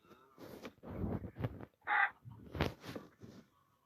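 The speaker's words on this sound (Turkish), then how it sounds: "Horoz da gitti uçuyor. Tavuk işte." Minecraft chickens cluck and squawk in short bursts, one sharp high call standing out, fairly faint with quiet gaps between.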